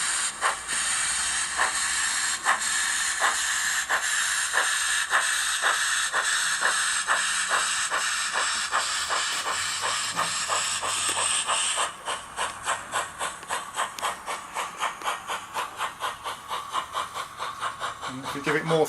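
An OO-gauge 2-6-2T model steam locomotive with a Soundtraxx Econami sound decoder hisses steadily from its cylinder cocks as rhythmic exhaust chuffs quicken on departure, then the hiss cuts off and the chuffs continue alone.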